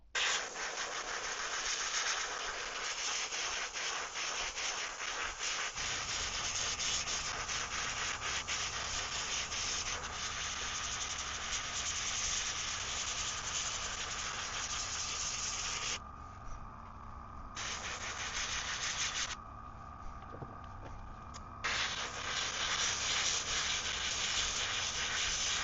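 An airbrush sprays paint in a steady hiss across a 3D-printed swimbait lure to darken its spine, continuous and close, with two brief pauses near the end.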